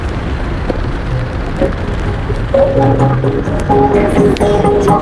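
Rain falling steadily on a motorcycle tour along the Pansela route from Pangandaran to Tangerang, West Java, with scattered drips and low rumbling underneath, while faint tones and voices come and go in the background.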